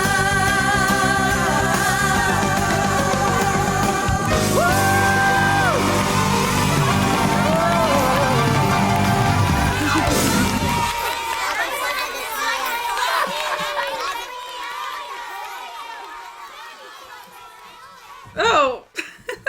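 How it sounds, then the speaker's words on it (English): Loud group of children yelling at full voice over a Christmas song recording, dense crowd-like shouting and laughter that drops away midway, leaving quieter sound before a brief burst near the end. "Oh, it's like all these kids just yelling at the top of their lungs."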